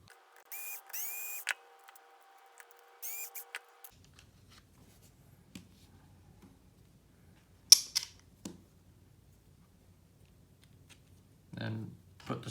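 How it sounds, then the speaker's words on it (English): A battery screwdriver whirs in two short bursts while removing screws from the rear bumper of a Traxxas 2WD RC truck. Later come a few sharp clicks and faint handling knocks. "in order to do that, we have to remove this screw here and these 2 screws here"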